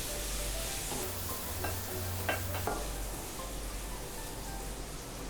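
Red chili powder and coarsely ground spices for a Punjabi sweet mango pickle roast in a pan, giving a soft, steady hiss with a few brief scraping strokes near the start and no talking.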